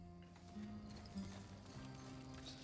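Faint, steady clip-clop of a horse's hooves in a video game, a quick even rhythm running under sustained background music tones.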